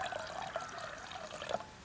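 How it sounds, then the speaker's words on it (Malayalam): Water pours steadily into a container while pani puri is being made, a soft continuous splashing and trickle with a few small drips, fairly quiet and with no talking. "കുറച്ചും കൂടിയൊക്കെ വെള്ളം ഒഴിക്കട്ടോ."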